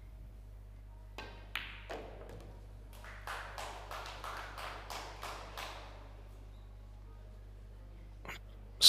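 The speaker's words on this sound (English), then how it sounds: "Small applause from the crowd" Sparse, light applause from a small pool tournament crowd at the Gandia Palace Hotel in Spain, a scattering of distinct claps building briefly then fading, heard faintly over a quiet hall.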